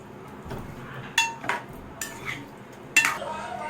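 A metal spoon scrapes and clinks against a pot as fried onions are stirred into chicken biryani, a few sharp knocks spaced over a few seconds.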